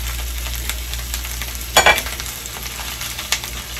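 Food frying in a pan with stirring: steady sizzle throughout, a louder scraping stir burst near the middle and a few lighter clinks later, no talk.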